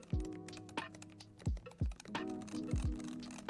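Keystrokes on an AK820 Max gaming keyboard fitted with magnetic switches, a handful of distinct thocky presses at an uneven typing rhythm, close and fairly quiet, with no talking.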